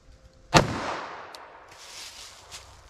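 A single sharp .45 ACP pistol shot fired into a clear ballistics gel block cracks loudly, followed by a decaying echo and faint rustling afterward.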